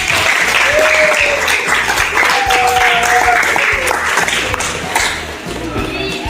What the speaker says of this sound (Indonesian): Tepuk tangan buat saya.